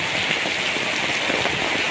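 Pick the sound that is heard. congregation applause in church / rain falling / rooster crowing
rain falling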